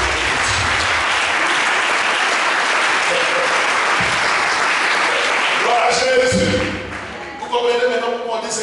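A church congregation bursts into sustained, loud applause and clapping that fills most of the stretch, then thins into scattered claps and voices near the end.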